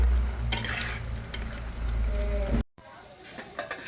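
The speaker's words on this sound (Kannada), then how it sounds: "ಈಗ ರವೆ ಹಾಕ್ಕೊಂಡು ಈ ಥರ ಅಳಗಡ್ಸ್ಕೋಬೇಕು" Semolina being stirred in a pan for upma, a scraping, rustling stir with light sizzling and utensil knocks against the pan, fairly close, cutting out abruptly then resuming more softly.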